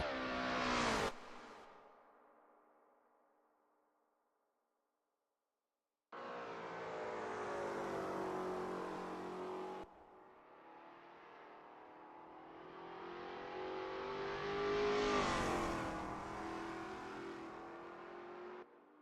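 A Lola T70 MkII Spyder race car engine at the Österreichring in a racing video game, heard as a loud rev that cuts off and fades, then a long steady high-pitched drone and a second climbing, accelerating pass.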